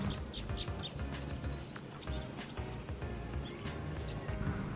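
Red crossbills of type 2 calling in the Antelope Valley: short, repeated chirping call notes early on, fairly faint over a steady outdoor background hiss.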